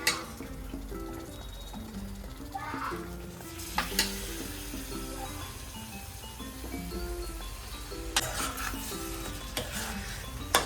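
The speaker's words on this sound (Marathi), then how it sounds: "आता इथनं मी मटण ट्रान्सफर करत आहे मटण ह्याच्यात." Mutton pieces are tipped into a sizzling spicy red gravy in a pan and stirred, making a steady loud sizzle broken by scraping stirs, with background music playing underneath.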